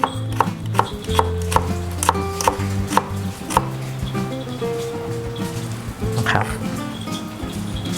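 Knife cutting shallots lengthwise on a board, close clicky chops in quick bursts over the first few seconds, then duller rustling cuts, with a steady background hum.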